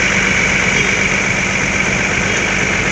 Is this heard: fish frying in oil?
no